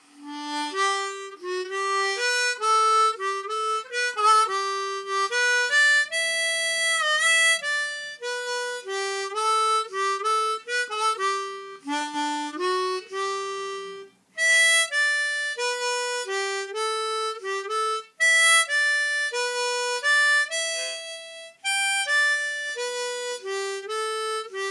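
Harmonica in G playing Auld Lang Syne with clean single-hole notes, a clear melodic line of held tones with brief breaths and pauses between phrases, played alone and close.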